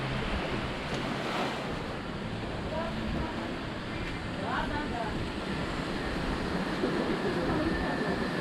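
Steady surf on the main beach of Veligandu Island in the Maldives, a continuous close wash of breaking waves with wind across the microphone and no clear individual crashes.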